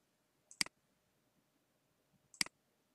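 Two crisp computer mouse clicks, about two seconds apart, close and alone over near silence while navigating a game support site.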